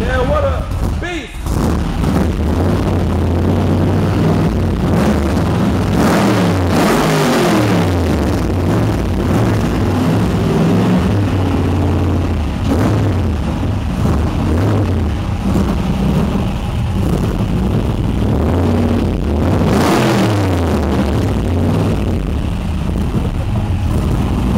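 The 900-horsepower, 8.8-liter engine of a CN Cobra roars continuously, loud and close, with rumbling surges as it revs. Voices can be heard talking over it.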